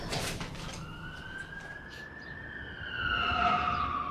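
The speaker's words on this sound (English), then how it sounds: "I hate to hear the sirens." An emergency vehicle siren wails at a distance, a faint rising and falling tone that swells slightly louder toward the end, with no one speaking over it.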